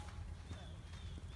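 A horse walking at a riding clinic, hooves clip-clopping in a slow, even rhythm at close range over a low background hum.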